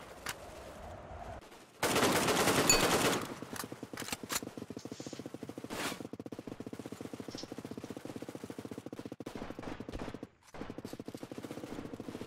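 Rapid automatic gunfire in the video game Redmatch 2, with a dense burst of fire and then steady rattling shots and scattered single cracks, loud and continuous.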